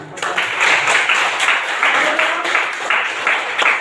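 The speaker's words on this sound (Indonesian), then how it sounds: "Oke, kita tepukkan." A class of junior high school students applauds together at the end of a social studies lesson, producing a steady, moderately loud wash of clapping that lasts a few seconds.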